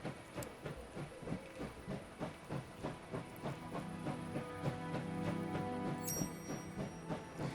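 The armored train in the video game Last Train Home gives off a steady steam hiss under rhythmic clanking and chugging, with a brief higher metallic ring near the end.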